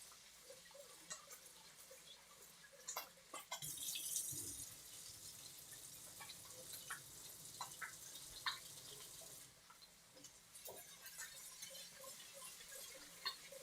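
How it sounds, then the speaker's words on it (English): Faint tap water runs and drips while rice is washed in a kitchen sink, with soft trickling, splashes and occasional clinks against the bowl, quiet and intermittent throughout. "you can hear the water running. I'm just washing the rice off."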